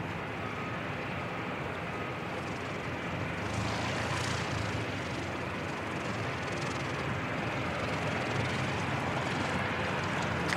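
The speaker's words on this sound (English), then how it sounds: "So we've got another ATR heading out." An ATR turboprop airliner departing Christchurch Airport hums in a broad, steady engine roar heard from a distance, slowly building in loudness across the clip with no one talking.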